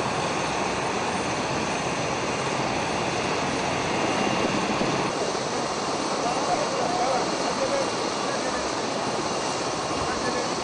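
An ambulance helicopter carrying a pregnant woman gives a continuous, loud engine and rotor drone, steady from start to finish, with a voice talking over it.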